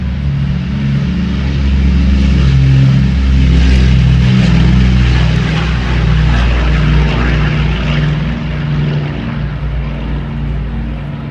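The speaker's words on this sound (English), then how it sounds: "Off goes the DC-6 underneath." Douglas DC-6 four-engine propeller airliner taking off at an airshow at Duxford, a loud, steady, throbbing piston-engine drone that swells and holds close by, with no talking.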